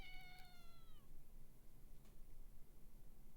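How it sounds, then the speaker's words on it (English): A cat gives a single drawn-out meow in a cold, rain-dampened alley. It is faint and somewhat distant over a steady low rumble, and no one speaks. "Cat's meowing more."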